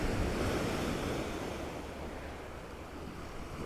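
Sea waves surge and wash steadily along Fleetwood seafront, a continuous broad roar of surf with some wind rumble, loud and fairly close throughout.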